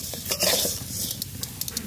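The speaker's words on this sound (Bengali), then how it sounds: "ওই জন্য আমি একটু তেল দিয়ে ভেজে নিলাম।" Lentils (dal) fry in hot oil in a pot with a steady sizzle, while a utensil scrapes and stirs in quick, close strokes with light clinks.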